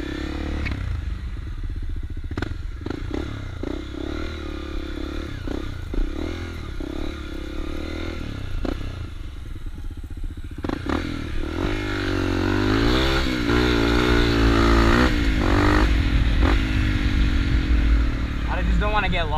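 A Honda CRF250L dirt bike rides a park trail, its engine running steadily under a rider's ongoing talk and growing louder and rougher toward the end, with some clattering from the terrain.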